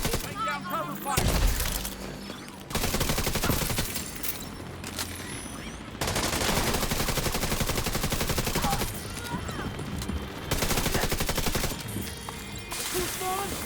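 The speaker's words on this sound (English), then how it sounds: "Lay down cover fire." A firefight in the shooter game The Division 2 fills the air with loud, sustained automatic gunfire in long bursts split by brief pauses, while voices talk over the shooting.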